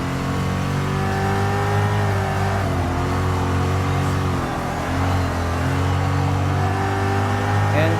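Turbocharged Ford GT40 race car engine in Gran Turismo Sport, a steady, loud mid-pitched drone that holds through the whole stretch with slight pitch dips and rises as it revs.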